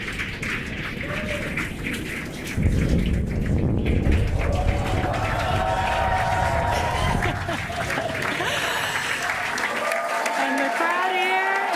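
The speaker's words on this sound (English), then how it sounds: "the crowd here is excited to see Falcon 9 touch down on landing zone 1" Crowd of spectators at a Falcon 9 first-stage touchdown on Landing Zone 1, cheering and applauding in a steady broad roar that swells sharply a few seconds in and holds loud to the end.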